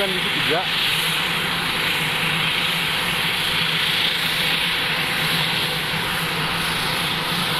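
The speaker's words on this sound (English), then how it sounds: "saya nggak tahu nih pesawat apa nih landingnya. Pesawatnya DC-3" A Douglas DC-3 Dakota propeller airliner lands on pleasure flights, its engine drone a steady, broad roar holding at one level throughout, with a brief rising whine near the start.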